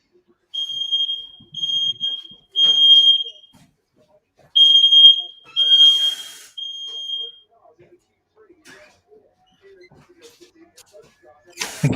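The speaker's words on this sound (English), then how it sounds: "I've got a fucking dodgy smoke alarm" A faulty smoke alarm sounds loud, piercing, steady electronic beeps in a short repeating pattern, then falls silent, leaving only faint small noises until a brief burst at the end.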